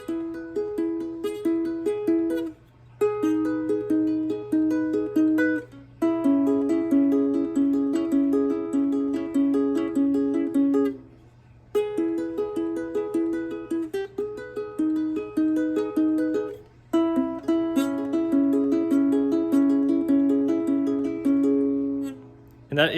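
Fingerpicked ukulele playing a pop song, a steady repeating pattern of plucked notes in phrases broken by short pauses, close and clear with no talking.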